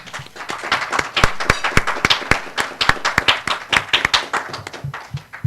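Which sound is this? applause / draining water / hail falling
applause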